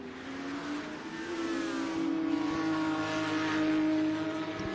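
A GT race car pulls away from pit road at Lime Rock, its engine tone climbing steadily as it accelerates, loud and fairly close, with no talk over it.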